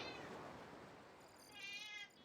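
A cat meowing close by in two drawn-out, quiet meows, the second rising higher and clearer, in an otherwise quiet room.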